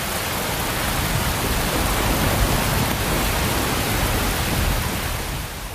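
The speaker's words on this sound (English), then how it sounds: "what they did have to face was that most British of blights," Rain falling in Britain during a prehistoric-style deluge. It makes a loud, dense, continuous hiss that stays even throughout and tails off slightly at the end, with no talking.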